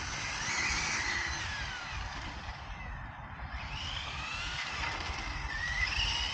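SNRC S86 radio-controlled car with a locked centre differential, tested for braking with no mechanical brake fitted: a steady high motor whine with rising and falling sweeps, briefly dipping near the middle, heard close and without talk.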